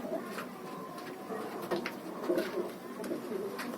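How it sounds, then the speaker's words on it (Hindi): A pigeon coos softly in a repeated, low burbling rhythm, close by, against a quiet background. "तो जैसे भाई ये एक कबूतर है"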